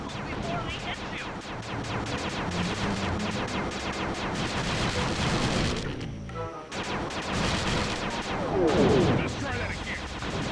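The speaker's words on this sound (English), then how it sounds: "Shoot down the enemy missiles before they hit you." Dense, steady rapid gunfire and explosive blasts from shooting down enemy missiles in the PlayStation 2 video game Sly 2: Band of Thieves. The barrage is loud and continuous, breaks off for a moment, then resumes.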